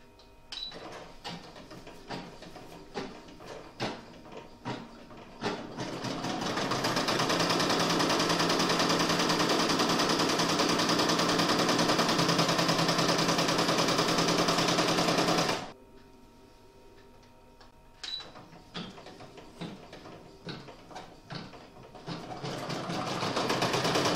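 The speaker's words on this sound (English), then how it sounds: "Next, it's going to do the quilting stitching" An embroidery machine runs quilting stitches on a clutch purse, rattling in rapid bursts, then settling into a long loud continuous whir before stopping and restarting with clicking bursts.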